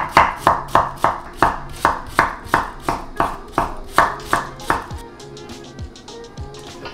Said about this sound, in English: So I'm gonna wash the cilantro and then just chop up the cabbage,